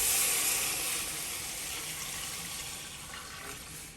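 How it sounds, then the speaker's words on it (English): Coconut milk pours steadily into a soup pot, a continuous close rushing wash that eases slightly toward the end. "I'm going to add in my coconut milk at this time."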